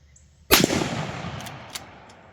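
A single loud gunshot from an old Marlin rifle in 35 Remington, a sharp close crack fired outdoors, followed by a decaying rumble and faint echoes.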